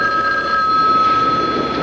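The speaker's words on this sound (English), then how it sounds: "Answer the phone." Telephone ringing continuously and loudly nearby, a steady bright electronic trill heard alone for a couple of seconds with no voices.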